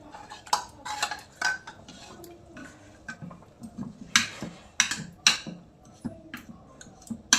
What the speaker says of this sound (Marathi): चमच्याने असं हलवून मॅश करायचं